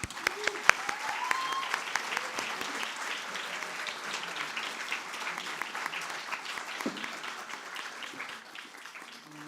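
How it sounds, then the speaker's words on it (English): An audience at a poetry event applauds a performer with dense, sustained clapping that slowly fades over several seconds, with faint voices underneath. "A big round of applause for Naseem."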